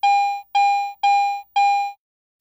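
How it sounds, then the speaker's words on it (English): An AT Pro metal detector in standard mode sounds its bell tone for a non-ferrous, medium-to-high conductivity target: four clear, evenly spaced chimes, each ringing and fading, alone. "When operating in standard mode, non-ferrous items with medium to high conductivity produce a bell tone"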